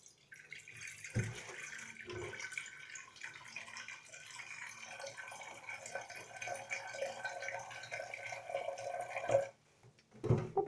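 Tap water runs into a pot at a kitchen sink in a low, steady stream for about eight seconds, then cuts off, followed by a few faint clatters.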